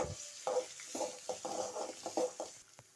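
Onion and dried red chillies frying with mustard seeds in a pan for palak keerai poriyal, a run of short stirring scrapes and crackling sizzle bursts at close range, with no talk.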